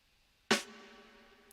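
A single sharp hit from a sample loop opens into a long reverb tail of about 4.5 seconds, with tonal ringing that slowly fades across the rest of the moment, heard alone.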